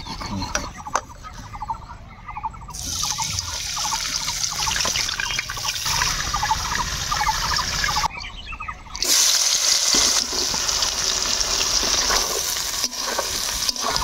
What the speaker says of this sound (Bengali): ওই তেল দিয়ে আমি এখন পেঁয়াজগুলা ভাজবো